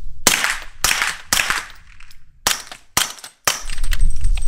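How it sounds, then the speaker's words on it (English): Suppressed SIG P365XL pistol firing range ammunition and then 185-grain rounds: six sharp, close reports spaced under a second apart, each with a short decaying tail, no speech. "And this is the difference of sound with suppressors. Three rounds of range ammo, and then three rounds of the 185 grain"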